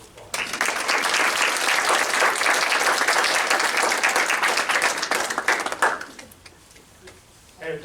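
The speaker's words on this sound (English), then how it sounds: "So let's give them a round of applause." Audience applause at an intern pinning ceremony: a loud, dense burst of many hands clapping for about six seconds, then fading quickly to quiet room tone with faint voices.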